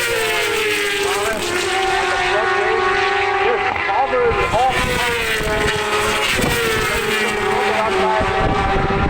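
Racing motorcycles at Bishopscourt circuit in Northern Ireland during the Sunflower Trophy races scream past as the leader comes through, engine notes rising and falling in a loud continuous whine, with a commentator talking over them.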